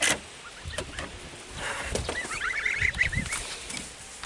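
Geese honk in a short chattering burst midway through, moderately close, amid soft knocks and rustling outdoor noise.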